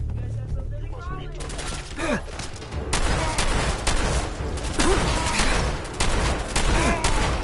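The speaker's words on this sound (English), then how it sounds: "Of course it's a fucking shotgun." Repeated shotgun blasts in Fallout 4 ring out in loud, dense bursts from about three seconds on, following a quieter stretch, with talk over parts of it.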